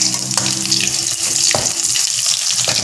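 Onions go into hot oil for a baked beans thalippu, a loud, steady frying hiss with a few sharp pops and spatters.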